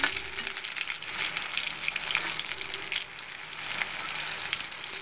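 Fritters of pumpkin leaves in a mustard and poppy-seed paste fry in a pan with hot oil, giving a close, steady, crackling sizzle that pulses gently with no talking.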